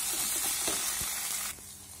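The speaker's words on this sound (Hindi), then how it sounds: "एबे भल भाबरे ताको मिक्स करी नबा" Potato and jackfruit curry sizzling and frying in a pan while being stirred, a steady close hiss with soft scraping stir strokes, the sizzle dropping quieter near the end.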